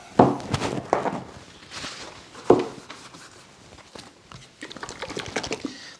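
A bottle of Flitz polish shaken by hand, its liquid sloshing in short bursts with soft knocks, fairly close and quiet.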